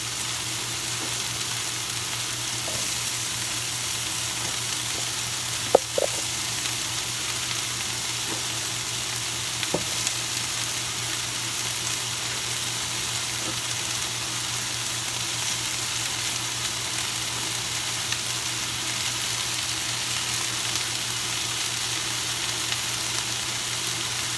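Chicken pieces sear in a hot pan for chicken green chili, giving a steady, even sizzle throughout, close and moderately loud. A few faint clicks of a utensil break through now and then.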